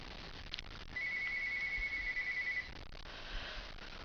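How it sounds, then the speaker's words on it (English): A phone rings with a rapid trilling electronic tone lasting under two seconds, moderately loud and alone over a faint background hiss. "Phone."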